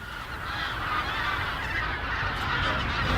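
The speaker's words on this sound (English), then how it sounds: "This flock of birds is traveling and landing in different places all around the world." A flock of geese honks outdoors in a park, a dense, steady chorus of overlapping calls that stays loud and close throughout with no talking.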